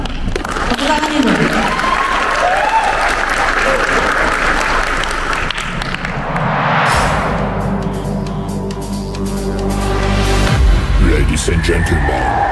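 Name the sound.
audience applause at a training event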